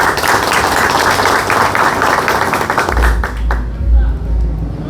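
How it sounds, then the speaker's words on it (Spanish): A conference audience bursts into loud, dense applause for a colleague, the clapping filling the room and then thinning out with low rumbling handling noise. "Yo le pido un aplauso al compañero Germán."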